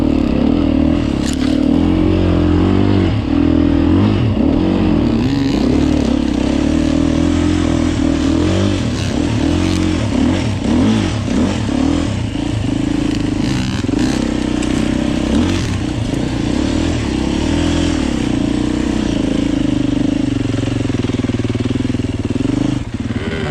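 A 2024 Beta 390 Race Edition dirt bike ridden along a wet, slippery single trail, its engine loud and continuous up close, rising and falling with throttle blips and revs throughout, wind rushing over the mic.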